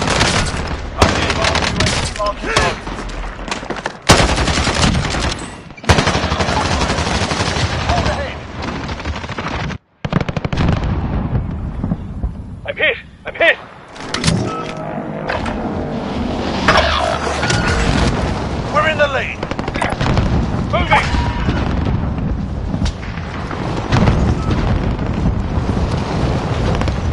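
Rapid machine-gun fire and bursts of gunshots ring out in a PS4 video game, loud and nearly continuous with brief gaps, while a player talks over the shooting.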